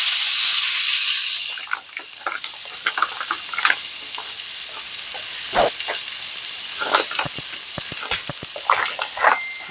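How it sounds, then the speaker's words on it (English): Large pieces of snapper going into a hot saute pan: a loud initial hiss of steam and sizzle that settles into steady frying with scattered pops and crackles, close by, no talk. "I'm going to put my snapper in the saute pan."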